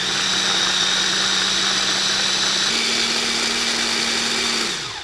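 A Shardor mini food processor running at low speed, a loud, steady close-up motor whine with one small pitch step before it spins down at the end.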